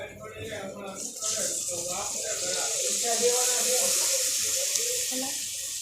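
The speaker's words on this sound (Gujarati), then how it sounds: "હવે એમાં થોડું પાણી નાખ" Water pours into a hot pan of whole-onion curry over a low flame with a rushing hiss that settles into a steady simmering sizzle, while a person speaks briefly at the start.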